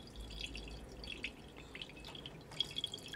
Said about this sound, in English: Now we need to catch the water that comes out of the machine that might still be in it.